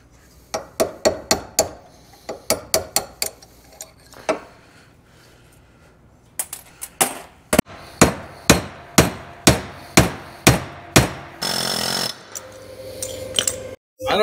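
Hammer blows strike an axle shaft in a shop during an IRO Almost Alloy axle kit install: rapid bursts of sharp metallic clanks, a pause, then a steady series of single heavy hits ending in a brief grinding burst.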